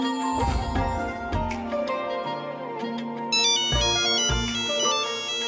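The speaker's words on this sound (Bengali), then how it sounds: "আচ্ছা একটা ফোন আছে আমার।" A mobile phone ringtone plays loud and close, a repeating electronic melody of bright tones with deeper rhythmic hits, continuing steadily with no one speaking.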